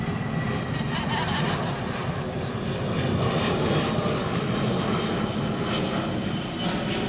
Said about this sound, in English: I know when a plane is coming, you start plotting your freeze